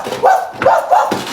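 A person's voice imitates a dog barking, three short nasal bark-like yelps in quick succession, loud and close.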